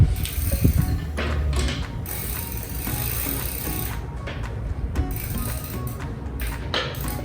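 Bicycle pedals are tightened into aluminum cranks on a cruiser bike, giving a continuous close, ratcheting mechanical whir with a sharper clack near the start.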